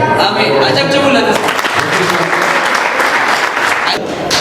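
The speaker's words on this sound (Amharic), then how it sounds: "አጨብጭቡለት።" Loud, close applause from a church congregation during a sermon, a thick continuous burst of clapping that starts at full strength and then fades slightly near the end, with voices mixed in.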